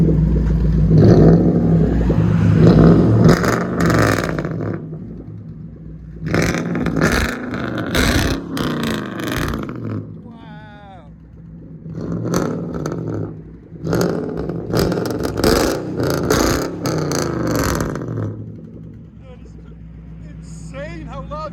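A straight-piped 4.5L V8 in an Infiniti M45, parked in a shop bay, blips and revs in loud raspy bursts with pauses between, while people talk over and between the revs.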